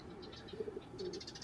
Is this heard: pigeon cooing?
yes